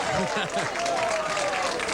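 A crowd at a 1991 pro duckpin bowling tournament at Town Hall Lanes in Johnston, Rhode Island, breaks into brief applause and clapping while a commentator talks over it, with faint bowling-alley rumble in the background.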